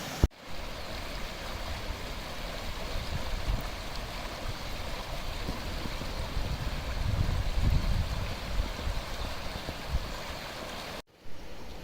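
Two waterfalls and a rocky stream in Wales give a steady, full rushing roar of falling and running water, close and constant for about twelve seconds with no voices.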